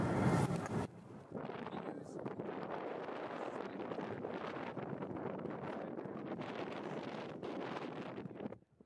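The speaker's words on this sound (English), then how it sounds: "It's quite windy up here and quite cold as well." Strong wind buffeting the microphone near the summit of Mount Evans, a constant roaring rumble with gusty fluctuations and no clear voices.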